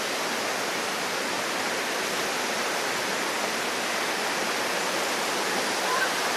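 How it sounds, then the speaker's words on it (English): A small, isolated waterfall deep in the Crocker Range, a constant close roar of falling water, loud and even with no letup. "I am now standing at the Mahua waterfall, which is deep inside the Crocker range."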